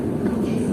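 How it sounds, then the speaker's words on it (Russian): Steady low rumble of a deep underground metro station in Saint Petersburg, a train's drone filling the space with a dull, continuous hum. "И опять очень длинное, глубокое, очень глубокое метро"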